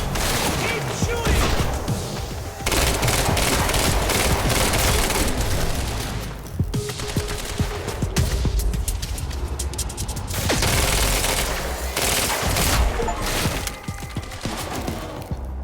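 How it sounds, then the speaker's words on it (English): Rapid bursts of gunfire and impacts from the video game Quantum Break, loud and dense in long stretches with brief pauses, over a backdrop of game sound. "Keep shooting!"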